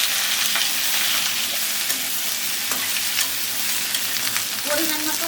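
Tomatoes frying in hot oil with cumin, black cumin and slit green chilies, a steady loud sizzle with occasional stirring scrapes, close by and without talk.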